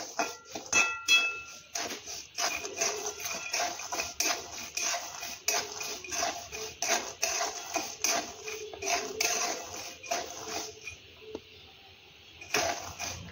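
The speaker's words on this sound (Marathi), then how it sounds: "मीडियम फ्लेमवरच आपण हे भाजून घेणार आहोत" Salted peanuts roast in a pan over a medium flame, giving a busy, continuous rattle and clatter of nuts shifting and tumbling against the metal, close and fairly loud, with a brief lull near the end.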